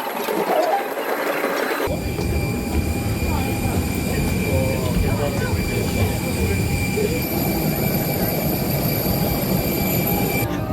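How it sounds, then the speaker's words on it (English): Steady loud jet engine roar from a ten-year-old Jetstar Airbus A320, with a sudden shift to a denser drone and whining tones near the start; a voice speaks faintly under the noise. "here is our aircraft, Victor Hotel, Victor Foxtrot Yankee, a 10-year-old Airbus A320 delivered in December 2014"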